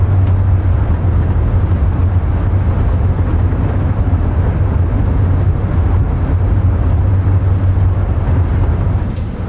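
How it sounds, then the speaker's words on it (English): An Airbus A350 in Microsoft Flight Simulator 2024 decelerates after landing with its thrust reversers deployed, giving a loud, steady, broadband engine roar over a deep low rumble that holds constant throughout, with no voices. "Nose down gently, reversers are out, decelerating."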